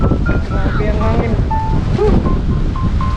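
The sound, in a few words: strong wind at beach campsite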